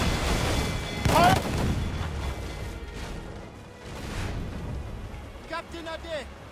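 Ship cannons boom in Assassin's Creed Freedom Cry, a loud close blast followed by heavy rumbling fire, with shouted crew voices heard near the end.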